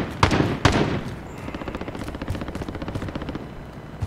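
Gunfire from the video game Call of Duty Warzone: two sharp loud shots open, followed by a long rapid stream of quieter automatic fire rattling at a steady rhythm.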